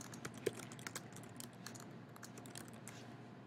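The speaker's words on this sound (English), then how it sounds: "we typed in Michael Jordan" Keystrokes on a computer keyboard as a search is typed into a literature database, a quick irregular run of close, light clicks going on steadily with no talk.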